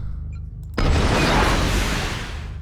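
After a low rumble, a sudden loud burst erupts into a roaring, whooshing blast of an MRM20 missile launch in a video game that slowly fades.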